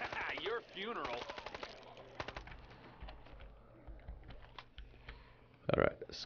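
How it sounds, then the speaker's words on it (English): Gunfire at zombies in the video game Contagion, rapid bursts of sharp shots and clicks at low volume, with a player's voice over it and a louder burst near the end. "I'm just gonna try and go here and shoot as many as I can"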